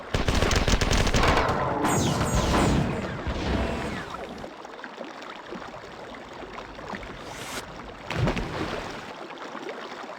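Shotgun fire in the video game Marathon, rapid bursts of loud blasts in the opening seconds, then a quieter stretch of ambient game noise with a couple of further shots later.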